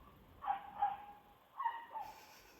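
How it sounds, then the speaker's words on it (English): A dog barks in short pairs somewhere indoors or nearby, four moderate yaps in two quick groups over a quiet background. "There's a dog barking, hang on."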